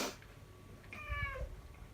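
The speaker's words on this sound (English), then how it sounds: "You have gained, Woody, 2 meows of approval, 3 meows of approval." A cat gives a single clear, rising-and-falling meow in the middle of a quiet room, fairly close but soft, with faint thumps around it.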